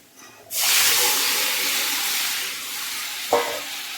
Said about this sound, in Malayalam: വേവിച്ച് വെച്ചിട്ടുള്ള കടലയെ വെള്ളത്തോടു കൂടിയാണ് ഒഴിച്ചു കൊടുക്കുന്നത്